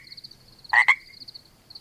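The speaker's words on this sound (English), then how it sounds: "they make that classic ribbit sound" Two quick, loud treefrog ribbit calls sound back to back near the middle, over a steady background of other high-pitched frogs calling in a wetland chorus.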